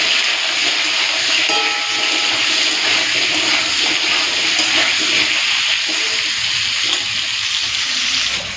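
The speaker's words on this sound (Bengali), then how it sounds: "আলু পেঁপেটা ভাজার সময় দিয়ে দিচ্ছি নুন" Potato and papaya pieces frying in a pan with salt, a steady loud broadband hiss running unbroken through the whole stretch with no talk.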